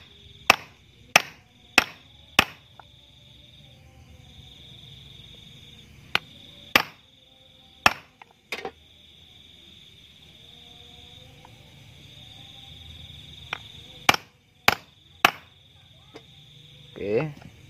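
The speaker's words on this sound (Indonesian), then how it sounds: "Usahakan saat pemasangan ini untuk pemukulannya jangan terlalu keras," A hammer lightly taps a seal into the water pump of a Yamaha Jupiter MX or Vixion motorcycle, giving sharp, close knocks in small irregular clusters, about a dozen in all, over a quiet background with faint buzzing.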